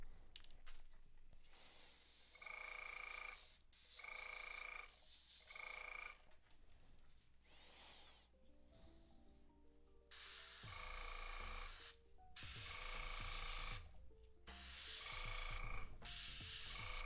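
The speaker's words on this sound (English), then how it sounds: "I'm going to try to get some highlighting with the airbrush" An airbrush sprays paint in repeated bursts of steady hiss with short pauses between them, highlighting a Nergal Demon Prince miniature; a motor-like hum runs beneath, and there is no talk.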